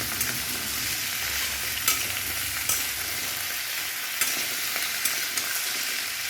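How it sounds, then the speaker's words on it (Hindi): Drumstick pieces and potatoes fry in a pan, giving a steady close sizzle. Occasional soft clicks come from stirring, and no one speaks. "ढक कर लाल करके सब हम भूनेंगे। बीच बीच में चलाते रहेंगे।"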